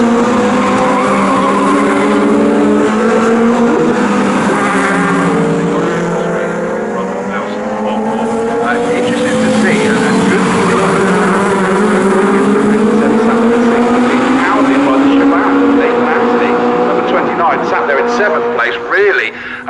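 Legends race cars racing wheel to wheel at Snetterton during a national championship race, engines droning and shifting pitch continuously as the pack runs close together, loud and steady, with commentary talking over them throughout.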